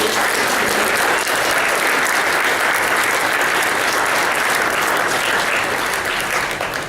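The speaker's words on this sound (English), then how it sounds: "If we could give him a round of applause for all of his fine work" An audience at a college reunion's opening remarks breaks into loud, sustained applause, a thick, even wash of clapping that holds at full strength to the end.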